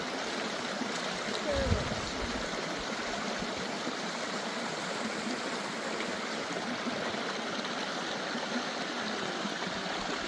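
A small trickling stream in Hartz Mountain National Park, Tasmania, running low after a very dry summer, gives a steady, continuous wash of water with a brief louder splash early on.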